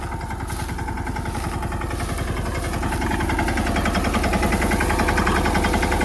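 A mini tractor digging groundnuts in a field runs with a steady, rapid chugging beat, close and loud, the engine noise building slightly toward the end.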